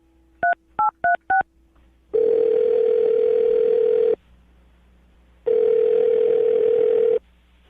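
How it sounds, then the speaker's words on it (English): Four short touch-tone beeps of a phone number being dialed, followed by two long, steady ringback tones separated by a pause, clear and close with no talking. "I'm going to dial the phone number right now"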